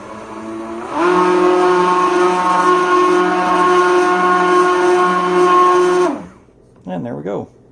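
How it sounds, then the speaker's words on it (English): A KitchenAid immersion blender whirs steadily for about five seconds as it blends a protein shake, a loud sustained motor whine that stops abruptly, followed by a brief rattle or scrape. "you just press that and pull the trigger, and the blade spin"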